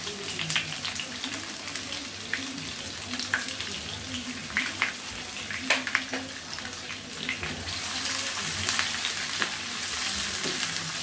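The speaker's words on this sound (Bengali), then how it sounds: "এখন দিয়ে দিব পেঁয়াজ কুচি, রসুন কুচি, কাঁচামরিচ।" Chopped onion, garlic and green chilli fry in mustard oil for a bitter gourd and jackfruit seed stir-fry, a dense continuous sizzle with sharp crackles and occasional stirring that grows hotter toward the end.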